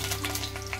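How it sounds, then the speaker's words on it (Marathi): Cumin and garlic sizzle steadily in hot oil in a pan, a close, continuous frying crackle with a constant low hum beneath. "मी ते पॅन मध्ये तेल टाकलेलं आहे, त्यामध्ये आता आपण जिरं टाकणार आहोत"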